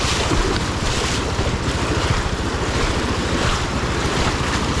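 River water rushes loudly and steadily as a BMW motorcycle is pushed across an Australian river crossing, with heavy wind buffeting the microphone throughout and no voices.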